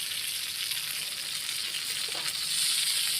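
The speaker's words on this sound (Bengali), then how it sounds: "দেখতে পাচ্ছেন এটা কীভাবে ছিটতেছে তেলটা" Hot oil sizzles and spatters steadily while fish fries Pakistani-style in a pan, a close, bright hiss that swells slightly near the end, with no talking.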